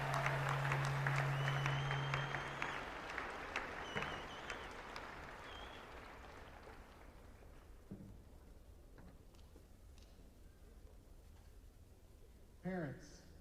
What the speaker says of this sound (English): One more round of applause for our chamber orchestra and combined choirs